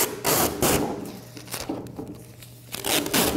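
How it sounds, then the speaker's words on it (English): Protective plastic film is peeled off a soda machine's front panel, giving close, crackling tearing and crinkling in several short pulls with brief pauses between. "I'm gonna pull off the protective coating now"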